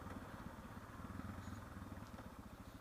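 A motorcycle engine drones steadily while riding, its pulsing thrum faint and continuous with light road and wind noise around it.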